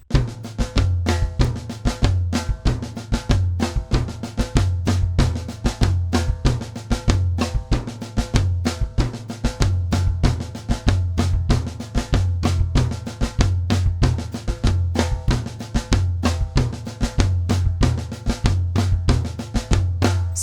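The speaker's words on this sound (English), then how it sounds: "A third orchestration option is to play beat 1 on the higher tom" Steady, driving samba drum pattern in 2/4 Pataflafla sticking, with beat one accented on the higher tom, dense and continuous rhythmic hits, loud and close with no talking, lasting about twenty seconds.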